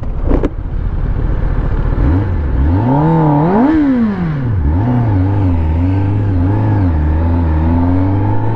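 A motorbike ridden hard at high speed, its engine note climbing and falling through gear changes, then holding a loud, steady high-pitched drone over wind roar, with no talking.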